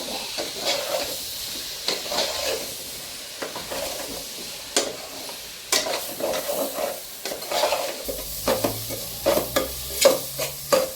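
Mushrooms being stirred in a frying pan, with a steady soft sizzle and hiss and repeated scraping clicks of a utensil against the pan, close and moderately loud, with no talking.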